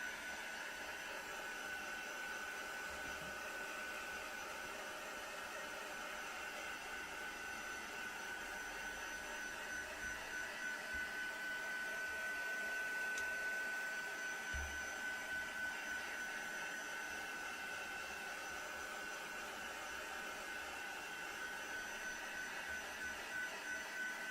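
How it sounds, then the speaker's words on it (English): A hot air tool blows continuously while drying a papercraft card, a steady, even whirring hiss with a faint high whine, held without pause and not especially loud. "So I'm going to give it a little bit of hot air, just to make sure it's nice and dry."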